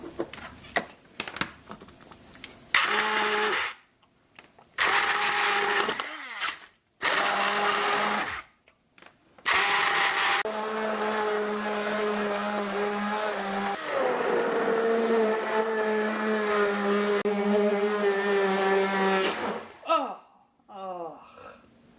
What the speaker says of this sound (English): we're going to get out this 20-year-old immersion blender